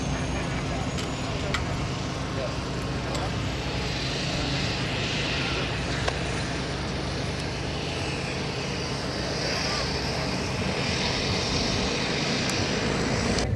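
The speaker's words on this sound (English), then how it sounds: "the B29 FIFI is taxiing back in from our second line flight of the day" The B-29 bomber FIFI taxiing back in after a flight at an airpower tour event in DuPage, its piston engines giving a steady loud rumbling drone that fills the scene throughout, with faint crowd sounds mixed in.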